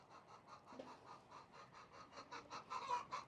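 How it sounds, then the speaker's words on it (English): Several chickens cluck softly in a steady, repeating rhythm, close by and fairly quiet, growing a little louder toward the end. "The chickens are lined up in front of it."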